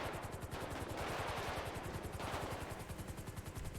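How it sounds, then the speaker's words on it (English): Rapid, continuous gunfire rattles nonstop from a shooter in the FiveM GTA V roleplay game, dense automatic bursts with sharp cracks running the whole time at a steady distance. "That particular gentleman continues to fire at us."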